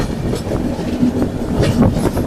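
Inside the Navjeevan Superfast Express as it pulls into Khammam station, a steady rumble of rolling wheels and carriage noise with faint clicks and a light squeal, continuous and fairly loud.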